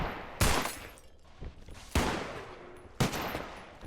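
Gunfire in the game Space Station 14 comes as three sharp, loud shots spaced about a second apart, each followed by a short decaying tail.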